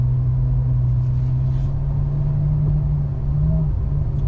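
A 2014 Ferrari F12 Berlinetta idles and creeps through a U-turn in first gear, a loud, steady low engine drone that holds nearly constant, with a slight lift in pitch near the end.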